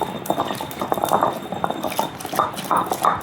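Fenugreek seeds and turmeric being pounded in a stone mortar, a close series of irregular thuds and grinding knocks with faint clinks, repeating several times per second.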